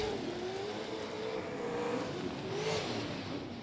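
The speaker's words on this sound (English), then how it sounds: "And once again, Albert on the throttle through the top of Pagel corner's got that sorted." A super sedan race car accelerates hard at Gympie Speedway, its engine snarling loudly as the pitch climbs and wavers through a corner. The sound is steady and close with no voices.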